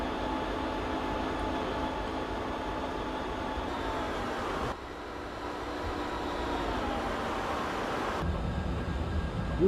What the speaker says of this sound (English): I really like how you have the traction motors sound